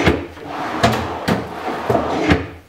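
A wooden drawer is slid onto its slides in a workshop, giving several short, close sliding knocks and bumps spread over a few seconds, with no one speaking.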